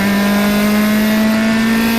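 A race car in an SCCA Super Tour FE2 race roars past on the Watkins Glen front stretch, a loud sustained engine drone with a steady pitch, no voices over it.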